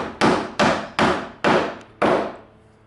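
A hammer taps a drawer front adjuster into a wooden drawer face, five sharp, loud, close blows at a steady pace of roughly two per second, each ringing out briefly before the next.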